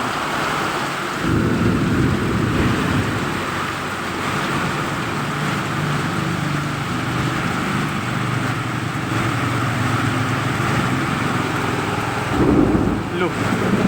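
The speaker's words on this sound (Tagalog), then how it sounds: "Yung boses pa lang ng kulog at saka kidlat parang matatakot ka na" Deep rolling thunder rumbles through a steady roar of heavy rain and strong wind, loud and sustained, with a fresh swell of rumbling near the end and no speech over it.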